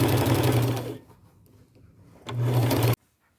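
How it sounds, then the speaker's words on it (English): A sewing machine stitches fabric from the inside of a garment, running in two loud, steady bursts of close motor hum and needle clatter separated by a quieter pause, then stopping abruptly. "I'm going to be sewing on the inside"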